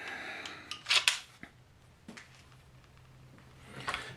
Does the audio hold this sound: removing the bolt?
yes